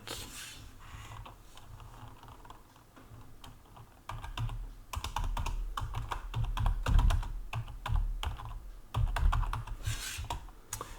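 Close-up typing on a computer keyboard, quiet scattered keystrokes at first, then denser rapid bursts of clicking with short pauses, no talking.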